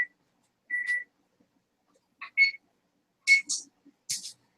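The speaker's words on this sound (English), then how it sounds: "something's beeping at me here" Several short electronic beeps sound intermittently, a steady tone followed by brief clustered chirps, fairly clear against a quiet background.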